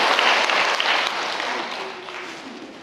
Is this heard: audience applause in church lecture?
yes